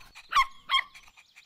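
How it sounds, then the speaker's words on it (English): Two sharp electronic dog barks from a button-press animal-sound toy, evenly spaced, followed by a softer trailing yip. "That was the sound of a dog."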